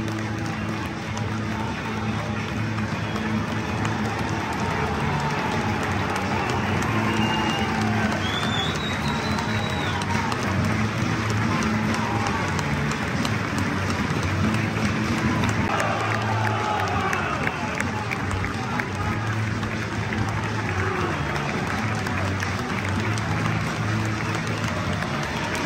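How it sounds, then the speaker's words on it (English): Football crowd at a Motherwell v St Mirren match in Motherwell after a 2-1 home win, with a steady broad roar of fans applauding and cheering as the players come over to clap them, sustained and loud throughout. "Motherwell players going over to clap the fans."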